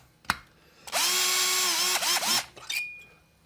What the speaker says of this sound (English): drill them down in some